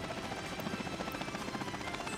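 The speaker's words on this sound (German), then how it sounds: "das ist das erste Mal, dass wir Hubschrauber fliegen hier bei uns" A helicopter in the video game Workers & Resources thrums with a steady pulsing rotor beat, a continuous mid-level engine whir with no talk over it.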